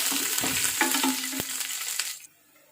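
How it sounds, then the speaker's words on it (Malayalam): Curry leaves crackle and sizzle loudly as they hit hot oil over a coconut-based fish curry, with a few sharp spits and stirring scrapes before the sizzle cuts off abruptly. "ഇനി നമുക്ക് കുറച്ച് കറിവേപ്പില ഇട്ട് കൊടുക്കാം."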